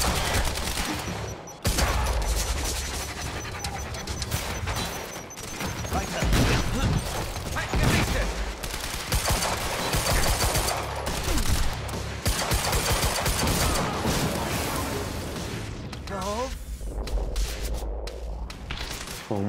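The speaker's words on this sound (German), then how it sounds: "Maschinengewehr." Sustained automatic machine gun fire from the video game Quantum Break, dense rattling bursts running almost continuously at high loudness with impacts and whooshes mixed in, a short pause near the start and a few gaps late.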